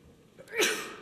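A single short sneeze bursts out during a city council meeting in Florissant, fairly close, with a faint breath before it and quiet room noise around it.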